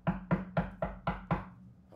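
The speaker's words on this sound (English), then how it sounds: "You hear a very stern knock at the door." Six firm, evenly spaced knocks on a wooden door, close and loud, each with a short resonant thud, set in a tavern scene during a tabletop role-play game.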